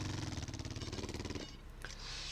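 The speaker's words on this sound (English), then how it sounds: "I switched to a longer bit on the jackhammer." A jackhammer fitted with a longer bit breaks rock to dig a fence post hole, giving a loud, rapid, steady pounding that stops partway through and leaves quieter outdoor noise.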